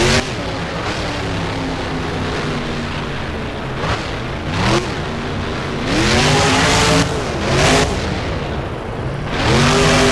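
A monster truck in the video game BeamNG, on a Hot Wheels freestyle track, roars loudly and continuously, its engine revving in repeated rising and falling bursts with occasional tire noise.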